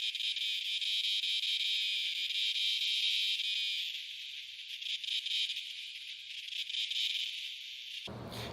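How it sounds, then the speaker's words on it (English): Male periodical cicadas buzz in trees, a loud, continuous high-pitched whine that swells and eases slightly before cutting off at the end. "Those are cicadas, specifically male cicadas, that are producing that sound by vibrating their tymbal"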